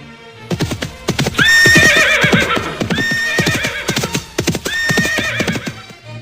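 Horse neighing and whinnying repeatedly in close, loud, high-pitched cries, three times in a rhythmic pattern, over hooves clip-clopping.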